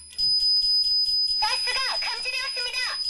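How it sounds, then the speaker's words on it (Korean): A household gas leak alarm in a home sounds after being triggered with test smoke, giving a steady high-pitched electronic tone that is loud and close, followed by an automated voice announcement. "시험용 스모그에 경보음이 울리고 안내방송이 나옵니다"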